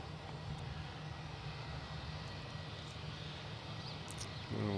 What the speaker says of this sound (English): Another old livery Jetstar making its way out here